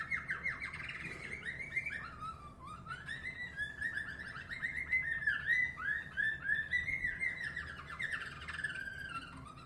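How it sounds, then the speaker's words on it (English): A young canary sings a learned song, a continuous run of bright, rapid warbling trills and chirps that rise and fall in phrases, close and clear over a faint steady background hum. "in this case, we're talking about a canary"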